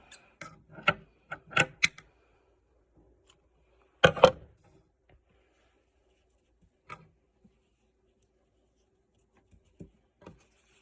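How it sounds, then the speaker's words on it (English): Scissors snipping yarn, a series of short, close, crisp cuts in quick clusters followed by a few isolated snips amid quiet. "We'll cut some more yarn."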